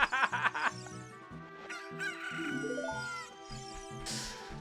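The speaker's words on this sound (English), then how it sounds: "I use the chicken as a distraction." Chicken clucking in The Legend of Zelda: Ocarina of Time, a quick burst of game-sound clucks followed by longer squawking calls over a rhythmic synthesized music track, with no talking.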